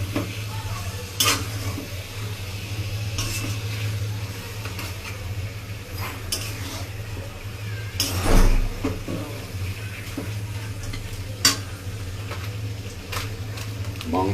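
Duck meat being sautéed and stirred in a pot, a continuous low sizzle with scattered scraping and clinks of utensil against metal, one heavier knock midway, and faint speech in the background.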